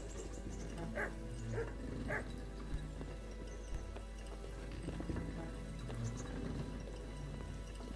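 Dogs bark sharply a few times in the medieval world of the video game Kingdom Come: Deliverance, mixed with hoof clip-clops and a busy outdoor ambience, at moderate distance with no talking.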